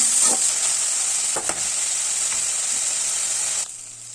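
Onions sautéing with a little salt in a pan give a steady, close hiss of sizzling, with a few stirring clicks, before the sizzle drops abruptly near the end.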